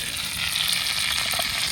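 Fish frying outdoors in a village setting, a steady loud sizzle of hot oil filling the clip without pause, close and continuous.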